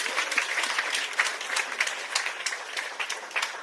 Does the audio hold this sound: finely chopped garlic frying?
no